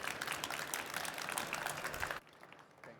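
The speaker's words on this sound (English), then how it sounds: "a warm applause for Fabian Kapp" Audience applause at a hydrogen and fuel cell industry talk, a dense patter of many hands clapping for about two seconds before cutting off into quiet room tone.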